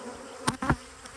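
Honeybees buzzing around a hive at the Elm Grove apiary, a steady faint hum with a couple of louder brief passes close by.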